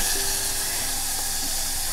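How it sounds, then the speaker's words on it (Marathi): Washed potatoes hit hot tempering oil in a pan, producing a steady, loud, close hiss of sizzling throughout, with no voices. "मी आता ही बटाटे आहे ना चांगली धुवून घेऊन फोडणीला टाकते"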